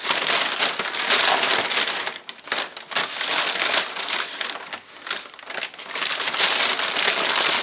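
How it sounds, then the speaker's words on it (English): Crumpled, smushed paper being straightened out by hand, a loud, close, continuous crinkling and crushing that runs throughout with brief dips, and no talking. "Oh, the paper got all smushed. I'm going to have to straighten that out."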